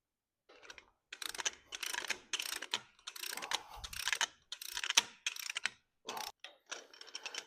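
A ratchet wrench snugging down cylinder head bolts on a tractor engine, heard as repeated close, crisp clicking strokes in short bursts with brief pauses between, and no talking.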